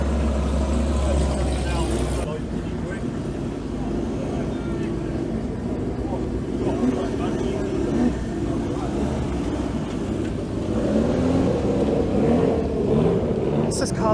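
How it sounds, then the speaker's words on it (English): A rally-spec Porsche race car climbs the hill at Shelsley Walsh, its engine droning steadily from a distance before swelling louder near the end, with spectators talking over it. "Now the rally Porsche is coming."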